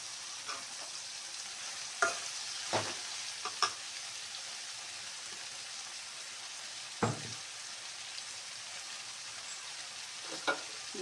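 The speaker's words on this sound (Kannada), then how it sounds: "ಇಷ್ಟು ಫ್ರೈ ಆಗ್ತಿದ್ದ ಹಾಗೆ ಈಗ ನಾನು ಮೆಂತ್ಯ ಸೊಪ್ಪನ್ನು ಹಾಕ್ತಾ ಇದ್ದೇನೆ." Fenugreek leaves frying in a pan for pulao give a low, soft sizzle, broken by a few sharp spatula scrapes and clinks spaced out over the stretch; no one talks.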